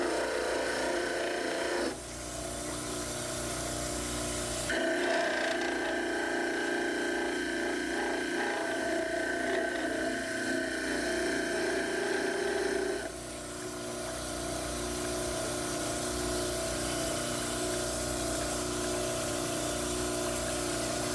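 A dental model trimmer grinds down an upper plaster cast, a steady, loud whirring rasp with abrasive scraping that shifts in pitch as the cast is pressed against the wheel, running continuously with no talk.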